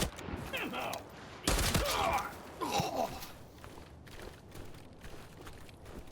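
Video game gunfire heard through a Fifine AmpliGame gaming headset in 7.1 channel mode, with bursts of shots and scattered impacts over several seconds amid game ambience, fairly quiet overall.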